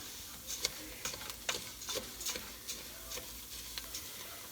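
Rice starting to brown in a pan for Mexican rice, quiet crackling sizzle with scattered ticking pops and light spoon stirring, close and faint.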